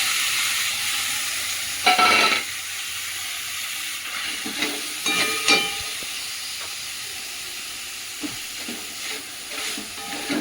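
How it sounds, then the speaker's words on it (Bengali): Grated coconut sizzles steadily in a hot pan over high flame for coconut halwa, with a constant frying hiss and several short scraping bursts as a spatula stirs it. "নারকেলটাকে ভালো করে ভেজে নিতে হবে"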